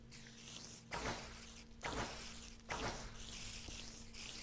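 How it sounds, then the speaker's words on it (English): Faint, buzzy chittering and scuttling noises of video game silverfish spawning, recurring in short bursts every second or so, with a low steady hum underneath. "that's the sound of a million more silverfish spawning"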